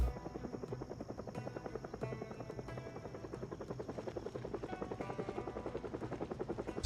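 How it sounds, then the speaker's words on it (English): Helicopter in the Project Zomboid video game, a steady rhythmic rotor thump and whine going on without a break, loud and close with no talking. "I hear the chopper. And I'm going to assume this is the vanilla chopper."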